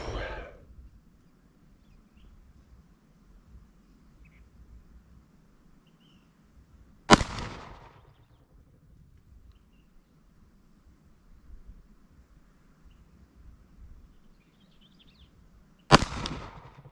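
Two sharp, loud pistol shots from a Glock 19 Gen5 at an outdoor range, spaced far apart with quiet stretches between, each cracking abruptly and decaying quickly.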